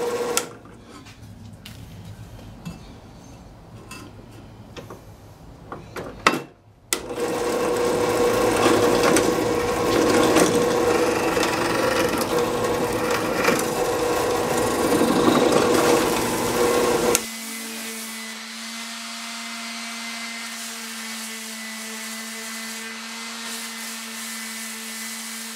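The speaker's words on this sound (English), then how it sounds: "drilling the pilot holes for the corner braces" A drill bores pilot holes in wood for corner braces during the restoration of a five-leg table, a loud sustained whirring run of about ten seconds that then drops to a quieter steady tonal hum.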